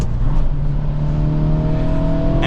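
A 2023 Acura Integra A-Spec with a manual gearbox pulls hard from inside the cabin, engine pitch rising in a loud, steady drone of accelerating revs.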